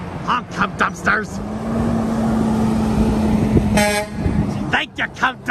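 A truck horn blares in a long, steady honk lasting a few seconds, loud and near, followed by a brief higher toot, with people shouting and cheering around it at a roadside charity honking event.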